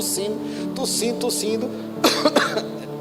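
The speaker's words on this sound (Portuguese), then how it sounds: "Eu tossi de verdade agora, não quis imitar ela não, mas foi uma tosse assim, seca." A few short, dry coughs break out near the end, close and sharp, after a stretch of muffled vocal sounds.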